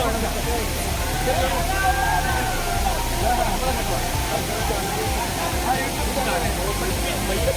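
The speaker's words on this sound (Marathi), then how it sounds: "हा वॉटरफॉल कसं वाटलं" Savdav waterfall in Konkan, a loud, steady roar of falling water filling the scene, with voices of people talking over it.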